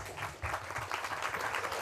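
Audience at a commemorative gathering clapping briefly, a soft, fairly distant patter of applause without speech.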